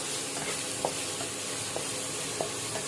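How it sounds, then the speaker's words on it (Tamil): Black stone flower spice being stirred into a gravy for beef biryani, giving a steady soft sizzle with a few sharp spoon scrapes and taps against the pan, close and alone with no talking. "கல்பாசி இந்த கிரேவியோட நல்லா மிக்ஸ் ஆகணும் அதை ரொம்ப நேரம் வதக்கணும்னு தேவையில்லை லைட்டாக வதங்கினா போதும்"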